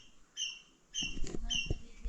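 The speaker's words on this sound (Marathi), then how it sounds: "खारुताईचा आवाज आहे" A squirrel calls outdoors at midday near a village river, giving two bursts of sharp, high chirping notes, near and fairly clear, with rustling and low handling noise under the second half.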